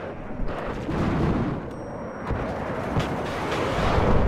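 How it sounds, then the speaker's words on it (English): Heavy bombing from HE bombers in the war strategy game WARNO, a dense, continuous rumble of blasts and booms with sharp bursts throughout, loud and sustained without pause. "HE bombers coming in now"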